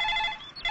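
A telephone rings in an office setting, a short electronic trill with steady tones that dip briefly and then resume, heard alone at moderate level.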